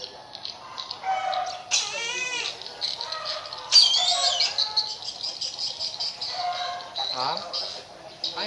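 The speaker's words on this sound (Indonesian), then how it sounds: "Ini elang Sumatera" A Sumatran black eagle gives repeated shrill, whistling calls up close, with short pauses between bursts, while people talk faintly in the background.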